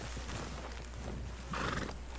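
A semi-domesticated horse in the video game Red Dead Redemption whinnies, a short neigh with hoof clip-clop, fairly quiet over a low steady hum.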